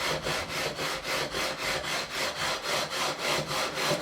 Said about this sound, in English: Leveling all of the frets in one fell swoop.